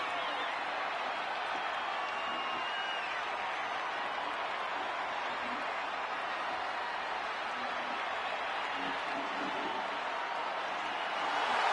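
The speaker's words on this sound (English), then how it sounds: "the roar of this crowd is absolutely deafening" A huge arena crowd of thousands roars for The Rock in the WWE 2K26 video game, a dense, steady wall of cheering that holds at one loud level throughout and swells slightly at the end.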